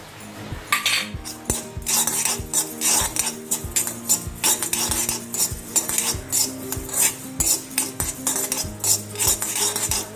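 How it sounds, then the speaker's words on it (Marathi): Fennel, pepper, cumin and ajwain are dry roasted in a pan and stirred with a metal utensil, producing rapid, rhythmic scraping and clinking strokes, loud and close, repeating steadily throughout without any talk. "त्याच्यामध्येच बडीशेप, थोडीशी मिरी, जिरं छोटा चमचाभर आणि थोडासा ओवा हे पण याच्यामध्ये आपण भाजून घेऊया."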